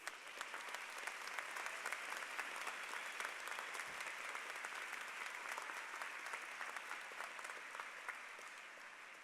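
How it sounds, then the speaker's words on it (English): Sustained, dense applause from a large crowd at a UMBC graduate commencement ceremony, steady and loud throughout without a break. "Give me a round of applause for the truth, the importance of the truth."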